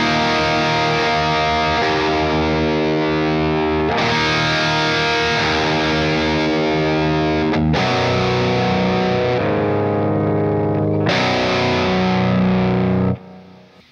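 Distorted electric guitar through a Bogner mini amp with the mid-range heavily boosted in the lower-mid setting, playing sustained chords that change every few seconds, loud and alone before ringing out at the end.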